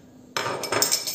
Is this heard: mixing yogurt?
yes